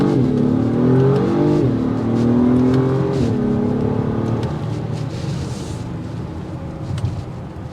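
A 2024 Acura MDX Type S with a twin-scroll turbocharged V6 accelerates on a test drive, its engine note climbing and dropping through the revs in a smooth, steady drone heard from inside the cabin.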